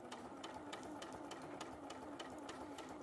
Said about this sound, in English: at the moment I'm just top stitching here